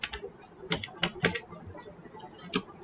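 Keys tap on a computer keyboard in short, light, irregular clusters, close and fairly quiet, with no talking over them.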